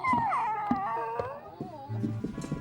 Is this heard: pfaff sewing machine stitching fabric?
no